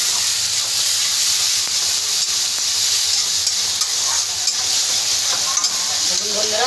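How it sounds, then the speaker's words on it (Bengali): Two spoons of cumin powder frying in oil for chana dal with coconut, stirred in the pan: a constant close sizzle and hiss with faint scraping strokes throughout, no voices. "দিচ্ছি আমি 2 চামচ জিরের গুঁড়ি, এটা নাড়াচাড়া করবো"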